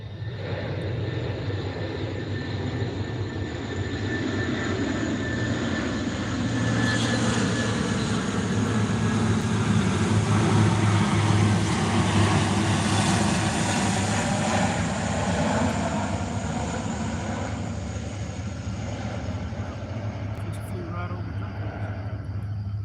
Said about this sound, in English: We're watching the C-130 fly over